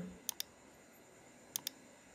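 Mouse clicks in ANSYS software: two quick double clicks about a second apart, crisp and close against a quiet background, with no speech.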